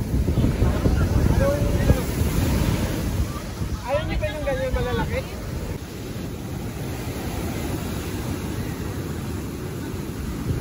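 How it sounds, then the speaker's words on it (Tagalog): Loud rushing wind and surging sea waves around a boat, with a person's voice rising briefly over the roar. "Lalaki ng alon mga kabukid."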